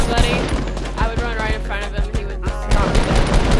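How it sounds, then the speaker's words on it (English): Rapid assault rifle fire in Fortnite, loud close bursts of repeated sharp shots in quick rhythm with brief pauses, mixed with some game sound. "Dude, I downed him from here with an assault rifle"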